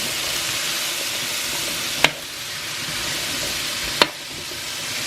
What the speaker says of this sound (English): Stir it up. And you're going to cook the squash